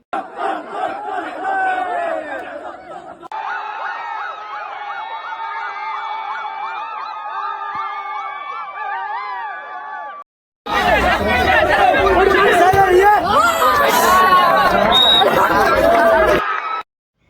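A crowd of junior students shouts and cheers loudly at a college volleyball tournament, with sustained chanting and babble, a brief silent gap, then a renewed roaring burst of yelling close by.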